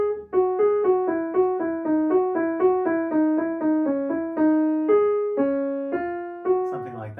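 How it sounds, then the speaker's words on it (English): Keyboard performance of the third theme from a Bach fugue in the Well-Tempered Clavier: a steady rolling line of sixteenth notes with clear, even pitched attacks, played alone and close up. "then Bach introduces a third theme, which is sort of a rolling kind of theme with 16th notes"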